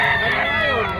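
A rooster at the Bocaue pet market gives a short, bright crow, close and loud, with market chatter faintly around it.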